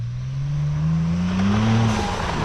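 Either a Jeep Wrangler Rubicon 392 or a Ford Bronco Raptor revs hard off-road, its loud, close engine note climbing steadily in pitch before easing off.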